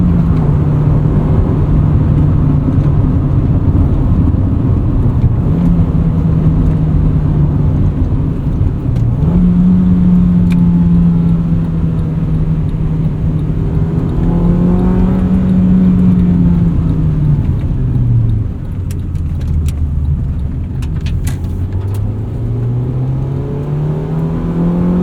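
A 1999 Honda Civic Si (EM1) engine revs continuously while driving, loud and close, its pitch climbing and falling through gear changes, with steady road and intake roar underneath and no talking.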